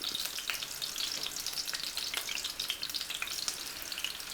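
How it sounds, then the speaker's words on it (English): Monster meatballs sizzle and crackle steadily in a very hot pan, a dense, continuous frying hiss with small pops throughout and no talking. "Here's the monster meatballs going in."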